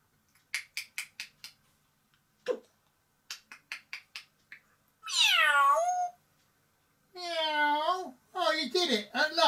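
A pet parrot imitates a cat's meow, giving two long, drawn-out meows in the second half after a stretch of short clicks and chattering sounds, loud and close in a quiet room.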